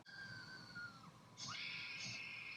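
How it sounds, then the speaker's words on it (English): A Spirit Halloween Ghostface animatronic lets out high, shrill electronic screams, two overlapping wails in quick succession, faint and tinny over a low rumble. "So we have some screams."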